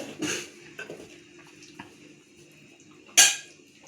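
The metal lid comes off a pot of simmering Tamil fish curry (tawa fish kulambu), with a light clank at the start, soft scrapes, then a sharper ringing metallic clatter near the end, close up and without speech.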